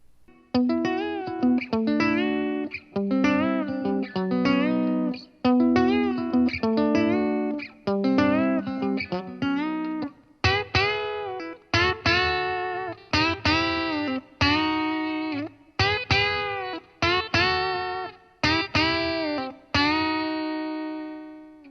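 Glarry GTL semi-hollow Tele-style electric guitar played clean through the bridge pickup: strummed and picked chords in a steady rhythm, bright and close, with no talking.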